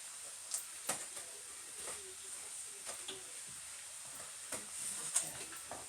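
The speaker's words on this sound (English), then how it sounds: "Let's stir this around a little bit." Pepper steak frying in a pan over medium heat with a faint steady sizzle, broken by scattered scraping and clinking as it is stirred, quiet and close with no voices.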